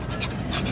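Pasta residue being scraped off a part of an Arcobaleno AFX 90 pasta extruder, a short rasping scrape of under a second, close and continuous, with no voices.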